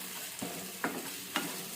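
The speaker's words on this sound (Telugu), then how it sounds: "వేసి ఈ టమాటో పీసెస్ కూడా బాగా మగ్గే వరకు ఇలా కలిపెట్టుకుంటూ ఉందాం." Tomato pieces frying in a pan hiss steadily while a spoon scrapes through them in three quick, close stirring strokes.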